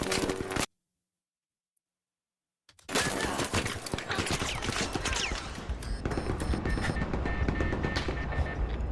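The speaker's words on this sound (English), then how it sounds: "Let's check out some gunfire." Rapid bursts of video game gunfire crackle loud and close after a brief silent gap, sustained and dense through the rest of the stretch like a heavy firefight.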